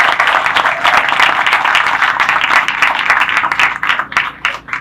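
A crowd at an outdoor groundbreaking ceremony breaks into sustained applause, dense clapping that holds steady and then thins out toward the end.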